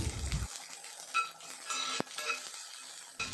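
Sliced onions sauté in a pan with chana dal, a quiet continuous sizzle broken by a few scraping stirs and a single sharp clink of a utensil, close by and without talk.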